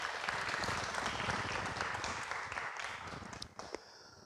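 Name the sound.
audience applause at a church service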